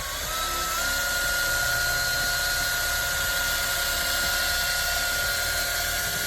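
A drill-powered paint mixer spins in a can of paint with a loud, continuous, high-pitched motor whine and rattling churn that holds steady throughout, close up and alone.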